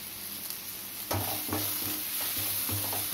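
Chicken 65 mixture with curry leaves and coriander stirred and fried in a pan, a steady sizzle broken by several louder scraping stirs after the first second, close and without talk.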